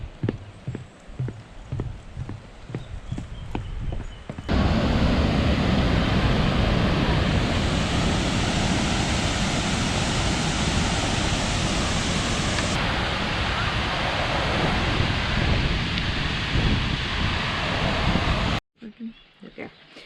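Danger Falls, a waterfall in Dorrigo National Park, roars as a steady, dense broadband rush for most of the stretch, with lighter outdoor noise at the start and a sudden cut near the end.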